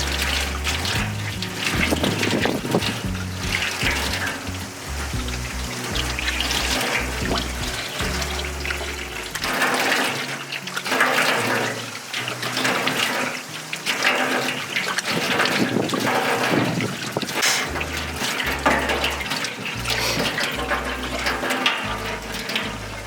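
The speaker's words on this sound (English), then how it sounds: "I'm just going to wash these chamois, wash my hands because it's so dusty, and then wash my face" A campsite sink tap in Botswana runs steadily while chamois, hands and face are washed, a continuous close splashing rush of water with small shifts as hands move through the stream.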